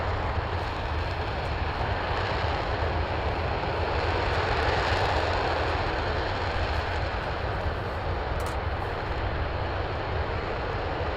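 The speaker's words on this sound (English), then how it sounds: "The shuttle engines and the SLS motors, throttling back down." A hydrogen-and-oxygen SLS rocket engine roars steadily on a test stand as it throttles back down, a dense, continuous broadband rumble held at an even level throughout, with no voices over it.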